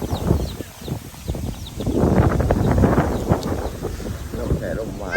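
Strong storm wind gusting across open rice fields around a small field hut in Thailand, a rushing, buffeting roar that swells and eases in waves, close to the microphone.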